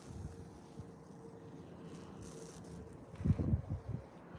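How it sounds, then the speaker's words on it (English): Cold wind gusting across an open park, a low blustery rumble on the microphone that builds into stronger buffeting near the end. "It's so windy and cold out."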